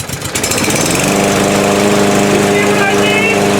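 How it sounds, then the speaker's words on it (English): A walk-behind lawn mower engine catches after a brief pull and settles into a loud, steady running drone that continues alone to the end. "I also found that this mower takes like nothing to start."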